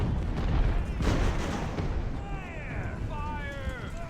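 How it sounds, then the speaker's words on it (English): Artillery fire in the naval battle game Ultimate Admiral: Age of Sail, with a rumbling boom of cannon fire early on, followed by rising and falling whistling tones. "I can't take that artillery fire."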